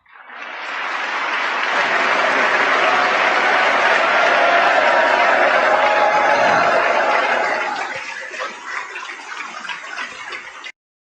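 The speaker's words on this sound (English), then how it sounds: "all those clowns applauding" Congress members applaud in a large chamber, a dense, loud, sustained ovation that swells early, holds steady, then thins into scattered clapping before stopping.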